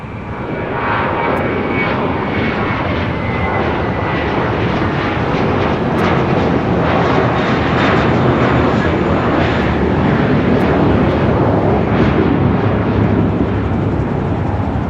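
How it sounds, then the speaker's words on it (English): An American Airlines Airbus A321, about nine years old, departs from LAX, its jet engines a loud, steady broadband roar that holds throughout, swelling slightly toward the middle with no pauses. "That was American Airlines A321 heading to JFK"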